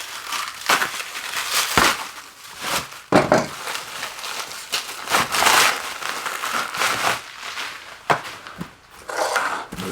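Shrink-wrapped NuTone service literature binders are unwrapped up close, with irregular bursts of crinkling, crackling plastic and tearing that come and go.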